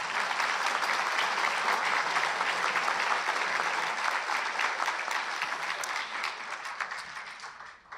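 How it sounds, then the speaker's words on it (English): Audience applause at a hometown heroes award ceremony, a steady wash of many hands clapping for several seconds before tapering off toward the end. "So another round of applause, please"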